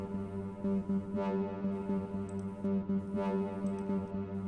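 Korg wavestate synth playing a trance-gated step sequence through a band pass filter, a sustained chord chopped into rapid rhythmic pulses with a sweeping filtered top, steady and moderately loud with no voices.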